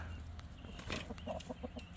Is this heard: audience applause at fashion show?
no